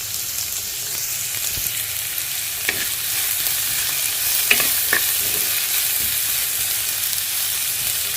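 Onions and green chillies fry in a pan for a dondakaya pesarapappu curry, giving a steady close sizzle with several sharp stirring scrapes and clinks, without talk.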